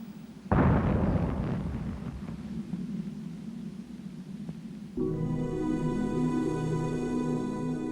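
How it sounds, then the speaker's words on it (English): A rocket blows up at the Baikonur Cosmodrome in a sudden loud blast that rumbles and roars for several seconds before fading under a sustained tonal drone. "The fourth rocket also blew up."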